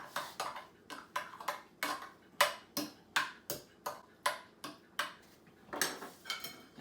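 Garlic and olive oil pasta stirred in a pan with a utensil, giving a steady run of about a dozen sharp clinks and scrapes against the metal at a quick, regular rhythm, close and fairly quiet, with no talk.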